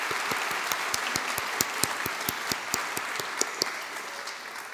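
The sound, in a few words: audience applause at graduation ceremony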